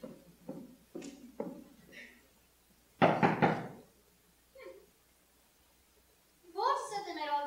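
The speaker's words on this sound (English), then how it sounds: "Knock again, dear." Someone knocks on a door during a stage play, a few distinct raps heard before and after spoken lines from actors in a quiet room.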